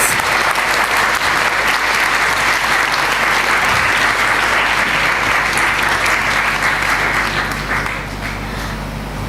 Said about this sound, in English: Can we have another round of applause for our performing artists?